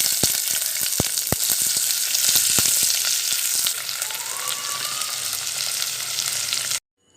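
Vegetables frying in a little oil for chicken manchurian, a loud continuous sizzle with sharp spatters and stirring clicks, then a short squeak before the sound cuts off abruptly near the end.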